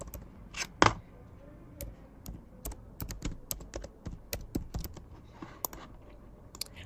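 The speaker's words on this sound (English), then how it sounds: "I'm going to click on T on my keyboard and I'm going to type fixed income savings." Typing on a computer keyboard during app design work, scattered quick clicks and clacks in short irregular bursts, close and fairly quiet.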